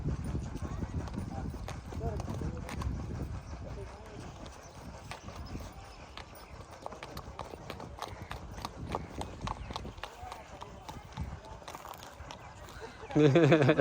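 Nukra horse hooves clip-clop in an uneven patter on a stud farm under people talking nearby, and the sound grows louder in the final moment.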